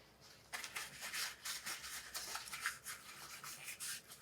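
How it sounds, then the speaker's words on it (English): Rubbing a cloth or brush against the eyelet of a RockShox Deluxe Select B2 rear bike shock during a service, a close, steady run of scrubbing strokes with no talk. "And now we clean our eyelet."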